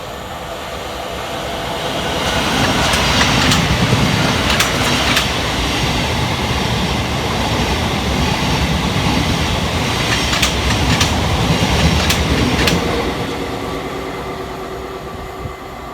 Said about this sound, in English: Next up to fly through the station will be 700 112, working 9J48 for Thameslink from Horsham through to Peterborough.